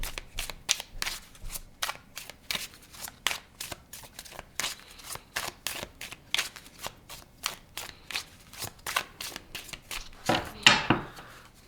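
Tarot cards are shuffled by hand in quick, regular riffling bursts, close and crisp, with a longer flurry at the very end and no speech.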